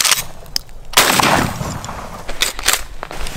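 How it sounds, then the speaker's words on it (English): A gunshot during a cottontail rabbit hunt outdoors, a sharp loud crack that decays into a rolling echo, with fainter knocks and rustling nearby and no talk. "I shot below him on the first one."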